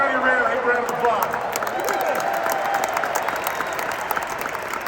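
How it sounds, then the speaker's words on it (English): Crowd applause and cheering in a large basketball arena, a dense wash of clapping with a voice talking over it. "give Johnny Red a round of applause"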